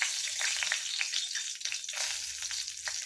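Heated oil, partly reused with a spoonful of fresh oil added, sizzling in a pan for an egg dish: a near, continuous crackle with sparse sharp pops and no voices.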